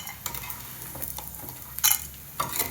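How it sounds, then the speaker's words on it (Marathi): Fried edible gum (dink) lifted out of hot oil, with a faint steady sizzle, light scraping, and a couple of sharp metal clinks of a utensil near the end. "डिंक आपला इथे तळून झालेला आहे छान असा तळलेला आहे आता काढून घेऊया"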